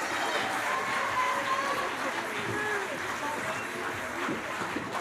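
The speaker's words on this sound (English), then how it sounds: "Can we get one more round of applause for the 6th grade choir," An audience applauds the 6th grade choir at a school concert, dense crowd clapping held at a steady level throughout, with some voices mixed into the crowd noise.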